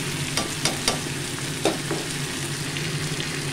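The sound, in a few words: cauliflower frying in a pan with spices stirred in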